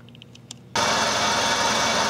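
A Buick LeSabre engine idles in drive with the transmission engaged, not accelerated, a steady dense running hum that kicks in abruptly after a quiet start with faint ticks, then holds loud and even.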